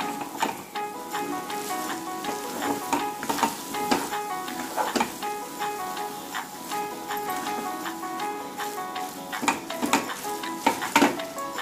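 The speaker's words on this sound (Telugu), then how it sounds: "ఒకసారి తిప్పుకుందాం మనం." A spoon stirs masala Maggi noodles with vegetables in a pan, giving repeated scraping and clinking strokes over a continuous sizzle that runs through the whole stretch at close range.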